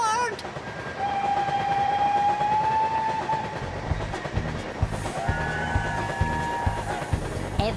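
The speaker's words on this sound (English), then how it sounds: "we seem to be on board some kind of a train" A cartoon train sound effect for a children's sing-along about a magical disco train: steady whistle-like tones ring out first, then a rhythmic clickety-clack of wheels joins in and repeats to the end, loud and close.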